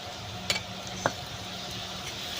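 Raw banana kofta balls frying in oil while being turned, a soft continuous sizzle broken by two sharp utensil clinks against the pan.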